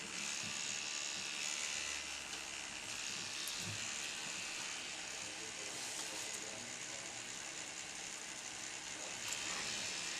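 A tattoo machine buzzes steadily and continuously while saturating black ink into skin on the neck under the chin in a realism tattoo, a close, dense mechanical whir that holds throughout without talk.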